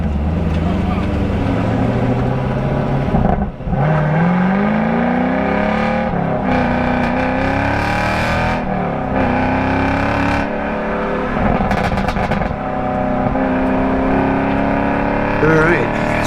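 A motorcycle at speed on the Road Atlanta race track, a loud continuous engine roar that rises and falls with gear changes and throttle, plus heavy wind noise, heard from the rider's position.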